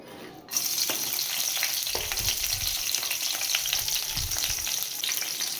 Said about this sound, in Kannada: ಈಗ ಎಣ್ಣೆ ಕಾಯ್ದಿದೆ. ನಾನೀಗ ಹಸಿಮೆಣಸಿನ್ಕಾಯಿ ಸೇರಿಸ್ಕೊತಾ ಇದ್ದೀನಿ.